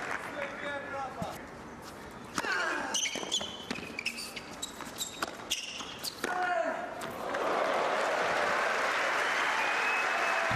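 Tennis spectators at a Nadal versus Ferrer exhibition match in Abu Dhabi break into steady applause for David Ferrer, swelling loud and sustained over the final seconds, with a commentator talking and ball bounces heard earlier.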